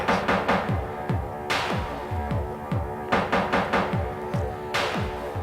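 Dark, mechanical industrial electronic music from an album, with a heavy pulsing rhythm, repeating throbbing beats and bursts of harsh noise, steady and loud throughout.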